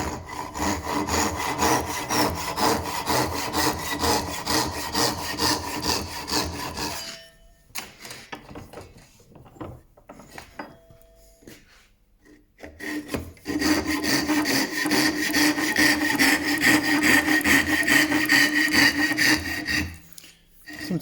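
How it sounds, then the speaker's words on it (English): A Japanese saw cuts through timber on a workbench while a W. Watson & Sons studio camera is being restored. Close, loud, steady rasping strokes come in two long runs separated by a quieter pause of lighter, intermittent scraping. "use a Japanese saw on something just to sort it out. So that's what I'm doing."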